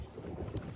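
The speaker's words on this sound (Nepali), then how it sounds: "यो चाहिँ अब हामी बोट चलाउँदैछौँ होइन।" A motorboat running across a lake, heard as a steady low engine drone mixed with wind buffeting and water rush, close and moderately loud over a brief moment.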